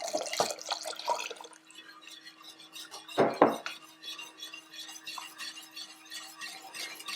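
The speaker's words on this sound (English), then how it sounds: "so I'm going to whisk in the vodka." A whisk clinks against a bowl while vodka is whisked into a homemade quilt basting spray, with a few sharp metallic taps and quieter scraping between them, close and without speech.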